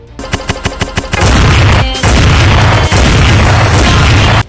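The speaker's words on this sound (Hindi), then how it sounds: "2 नहीं, 3 नहीं, 4 नहीं, 5 नहीं, बल्कि 6 राउंड फायर कर रहे हैं।" Gunfire from a gun, six rounds fired: a quick run of about six sharp cracks in the first second, followed by a loud, sustained roar of noise.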